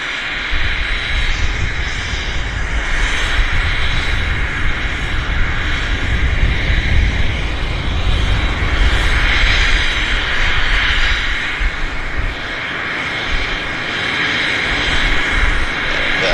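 A United airliner rolls and lifts off from runway 26 left at Vancouver Airport, its jet engines roaring loud and sustained throughout, swelling slightly and then easing.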